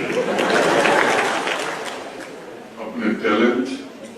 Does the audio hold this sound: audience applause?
yes